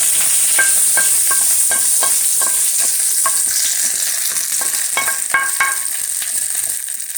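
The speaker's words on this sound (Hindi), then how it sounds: "गैस बंद कली मु चटनी रे ढाली" A hot tempering poured into chutney bursts into a loud, bright sizzle with rapid crackling pops that slowly settle, close and alone.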